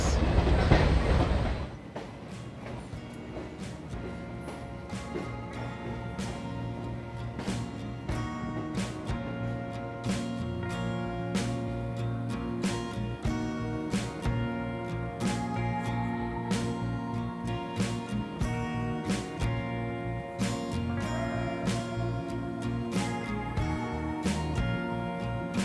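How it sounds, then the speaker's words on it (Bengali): The Balurghat–Kolkata Tebhaga Express rolls into Kolkata station with a steady, loud clickety-clack of wheels over rail joints and a continuous low rumble of the carriages, running close and unbroken. "অবশেষে আমাদের ট্রেন এই কলকাতা স্টেশনে এসে ঢুকলো প্রায় 22 মিনিট লেট করে।"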